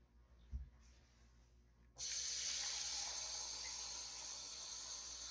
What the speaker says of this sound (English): I'm going to add a couple of, probably 2 cups of water.